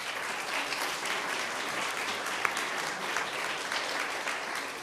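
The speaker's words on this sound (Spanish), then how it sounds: "Les pido por favor un aplauso." Audience applause fills the room after a lecture honoring Roberto Bolaño, dense and even for about five seconds with no break.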